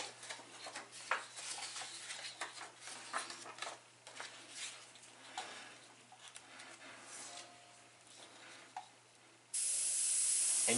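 An airbrush sprays paint for several seconds, giving a continuous airy hiss with fluctuating intensity. A louder, steady burst of spray comes near the end.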